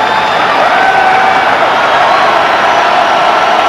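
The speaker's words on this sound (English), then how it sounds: "The crowd steps it up now." Football stadium crowd at a 1993 college game swelling into steady, loud cheering and roar, dense and continuous throughout with no distinct voices standing out.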